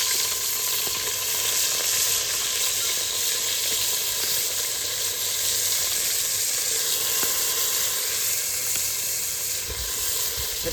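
Onions fry in hot oil with asafoetida, a steady loud sizzle and hiss close by with occasional faint stirring ticks, no voices.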